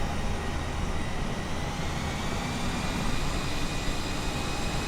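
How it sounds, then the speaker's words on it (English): The left engine of an Embraer ERJ 175 in the FS2020 flight simulator runs at high power, a loud constant jet roar with steady whining tones, heard from the front without any speech. "We're going to throttle up and down our left-hand side engine,"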